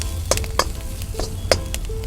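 Onions, dried red chillies, garlic, cashews and mint frying in hot oil, with a steady close sizzle broken by several sharp scrapes and knocks of a spoon stirring the pan.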